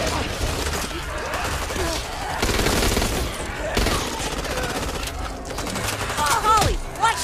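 Rapid bursts of gunfire in the zombie shooter game Back 4 Blood, loud and close, with repeated volleys, shattering impacts and game voices in between.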